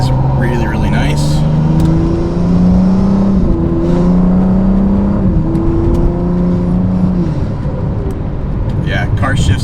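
A BMW F30 with flashed transmission drives in sport mode, its engine drone rising in pitch and dropping at quick, smooth shifts, with someone talking over it.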